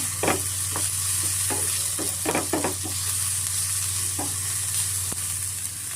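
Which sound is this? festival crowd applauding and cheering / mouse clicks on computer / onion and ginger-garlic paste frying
onion and ginger-garlic paste frying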